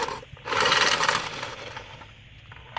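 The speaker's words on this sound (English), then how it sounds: "Automatic card shuffler really helps speed things up." Automatic card shuffler riffling playing cards at a blackjack table, giving a brief burst of rapid clicking and rustling that swells, holds for about a second, then fades out.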